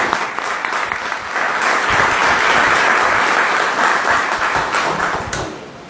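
An audience at a book presentation talk applauds steadily for about six seconds. The dense clapping from many hands swells slightly midway, then thins and tapers off near the end.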